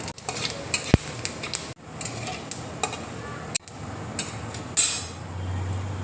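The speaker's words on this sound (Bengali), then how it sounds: "পাঁচফোড়ন দেখো দিয়ে দিচ্ছি" Panch phoron spices hitting hot mustard oil in a wok alongside dried red chillies, a steady close sizzle with scattered sharp clinks and stirring knocks of a utensil against the pan.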